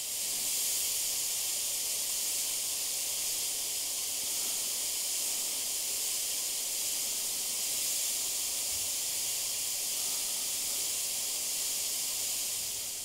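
Steady airbrush hiss as paint strained through a simple strainer sprays from an Eclipse airbrush fitted with a 0.35mm needle and nozzle, a constant close airy rush running uninterrupted with no talking.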